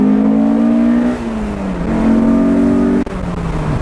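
A Honda S2000 fitted with a new exhaust accelerates hard from inside the cabin. The engine note climbs in loud, droning pitch sweeps and drops briefly at each gear shift.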